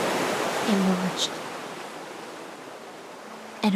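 Ocean surf washes in a Honkai: Star Rail cutscene, a soft, steady hiss of waves fading gradually, with brief tonal chimes and a short voice fragment breaking in.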